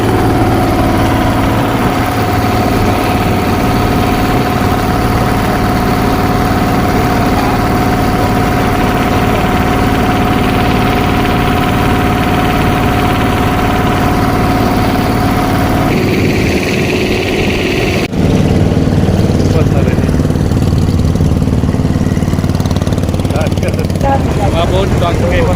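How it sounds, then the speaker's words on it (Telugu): A boat engine drones loudly and steadily as the boat labours upstream against the current near Yangon, with the hum shifting tone partway through and continuing without pause. "బోటు చాలా కష్టంగా వెళ్తుంది, ఎందుకంటే బోటు వస్తుంది కదా కిందకి, ఎదురు వెళ్తుంది కదా."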